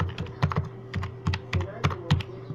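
A password is typed on a computer keyboard with a quick run of close, crisp key clicks in an uneven rhythm over a faint steady hum.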